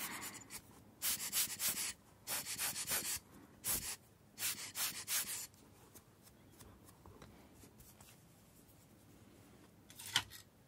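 An ear pick is filed or shaved during ear-cleaning tool maintenance, with quiet, close scratchy rasping in rhythmic bursts, several short strokes grouped together, then a lull and one final scrape.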